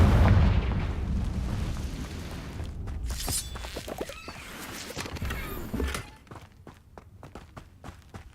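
A Confringo spell in Hogwarts Legacy erupts in a loud, deep explosive boom at the start, then crackling debris and scattered impacts fade under softer game ambience.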